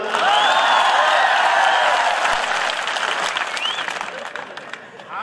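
An audience at a Hindi poetry gathering, an all-India kavi sammelan, breaks into loud, dense applause that holds strong for a few seconds, then gradually thins and fades toward scattered claps.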